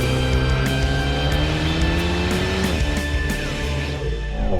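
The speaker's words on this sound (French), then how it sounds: "la sonorité moteur a été bien travaillée. C'est un 4 cylindres, mais il fait un joli bruit" An Alpine A110 four-cylinder engine is driven hard on a race circuit, a loud, close, continuous engine note that climbs steadily in pitch, drops briefly with a gear shift, then keeps pulling.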